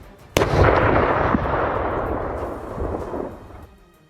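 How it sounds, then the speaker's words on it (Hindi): A sudden loud blast bursts right beside a yellow bus, followed by a long rumbling roar that slowly fades over several seconds, with no voices. "पीले रंग की एक बस के बिल्कुल करीब जोरदार विस्फोट हो गया।"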